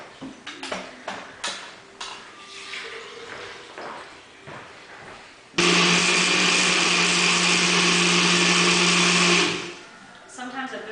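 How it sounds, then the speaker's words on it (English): A blender whirs loudly and steadily for several seconds, mixing a thick sodium alginate thickener, after a stretch of clattering and handling sounds with a person talking. "Sometimes at this point it needs some help because it's thick, so the blender can't really get it all the way."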